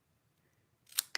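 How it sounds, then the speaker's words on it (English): Blue cardstock being angle cut for a handmade card: two quick, crisp snips close by, the first longer and louder, after near silence. "I'm going to angle cut the balmy blue."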